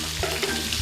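Bacon sizzles in a mix of bacon fat and a little oil, giving a loud, continuous crackle close by.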